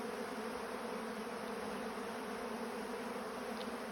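Honeybees buzz steadily around honey filters set out a little away from the hives, a dense, even drone with no pauses, soft but constant and heard alone.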